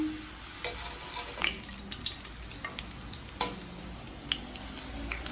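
Pepper karasev dough sizzles and crackles steadily in hot oil, a constant frying hiss with occasional pops and small clinks, close and without talk.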